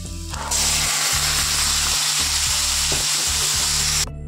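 Chickpeas are tipped into a kadai of hot oil with cumin seeds and onion, setting off a loud, dense, continuous sizzle that starts abruptly and cuts off sharply, with a low rhythmic mechanical hum underneath.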